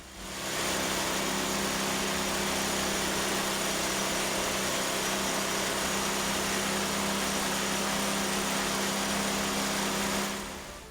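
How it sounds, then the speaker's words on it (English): A car engine runs steadily at idle, a constant loud hum and rumble that fades in at the start and cuts off near the end. "See if there's any smoke when we run this engine on this fuel."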